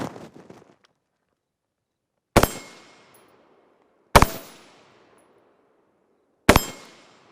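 Three sharp gunshots fired from a shooting position at a vehicle, spaced about two seconds apart, each loud and ringing with a decaying echo, with brief faint talk at the start.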